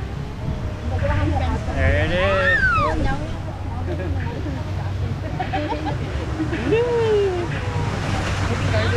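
Steady rushing water on the Kali River Rapids raft ride at Disney's Animal Kingdom, a broad continuous wash under lively talk and laughter from riders.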